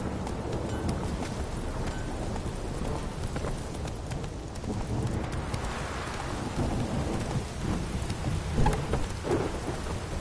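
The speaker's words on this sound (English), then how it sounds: "Midges were biting on account of this downpour." A heavy rain downpour in a video game with Roach the horse, rain drumming steadily and close while low thunder rumbles underneath, broken by a few hoof clops.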